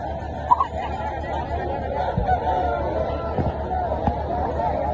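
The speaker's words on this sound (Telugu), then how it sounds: "ఇది మన పందెం కోడి" A fighting rooster at a rural cockfight gathering in Andhra crows somewhere in a noisy crowd, its call partly buried under steady chatter and babble from people nearby.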